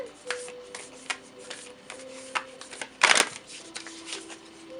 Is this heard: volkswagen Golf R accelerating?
no